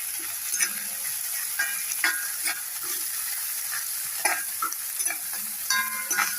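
Ginger garlic paste sizzles steadily in hot oil with whole cardamom, cloves and cinnamon for an Assamese papaya mutton curry, with a soft continuous fry broken by repeated clicks and scrapes of a stirring spoon.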